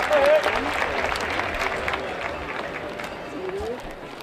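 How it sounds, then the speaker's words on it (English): A baseball crowd at a HarbourCats vs Applesox game applauds the bat boys, with moderate clapping under a stadium announcer's voice and organ notes. "I want to give a round of applause for our bat boys,"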